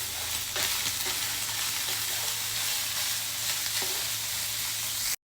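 Garlic and onion frying together in a pan while being stirred, a steady broadband sizzle with occasional scraping stir noises, close and continuous with no talking.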